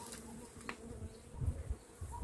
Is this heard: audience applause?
no